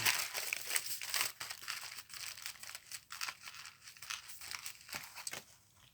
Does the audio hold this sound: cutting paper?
yes